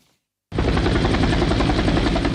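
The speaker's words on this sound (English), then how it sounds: "They landed in Chemolingot area of Baringo County aboard this Kenya Air Force helicopter" A Kenya Air Force military helicopter landing in Chemolingot, Baringo County, its loud, steady rotor and turbine roar bursting in after a brief silence and continuing unbroken at close range, with no voices.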